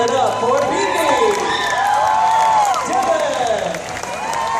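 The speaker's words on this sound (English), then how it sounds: "keep your applause going and let's give it up for Vivi" A studio audience at a live Fear Factor show applauds and cheers loudly, a dense wash of clapping with whoops and excited shouts from many people close by.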